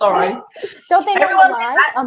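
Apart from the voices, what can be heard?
No everyday noises stand out.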